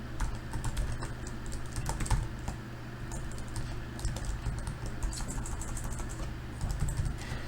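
Rapid, uneven clicking of computer keyboard keys as a password is typed, close and fairly quiet, continuing in short bursts with no talk.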